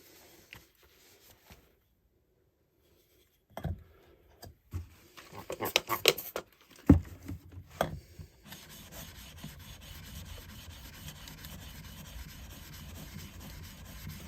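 A Deba knife is sharpened on a whetstone: scattered scraping strokes at first, then a run of louder rubbing strokes, settling into a steady, softer grinding rasp.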